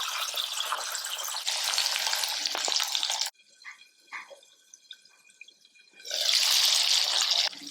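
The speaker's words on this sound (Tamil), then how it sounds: "இரும்பு கடாயில் கடலெண்ணெய் ஊற்றிருக்கேன், காஞ்சிருச்சு. ப்ரான்ஸை போட்டு எடுத்துடலாம்." Prawns frying in hot groundnut oil in an iron kadai, a loud dense sizzle that cuts out abruptly, leaving a near-silent stretch with a few small clinks, then surges back just as strongly.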